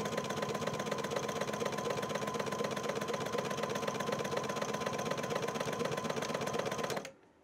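A sewing machine runs continuously close by, a fast even mechanical whirr of stitching along fabric edges that stops abruptly near the end, with no voices.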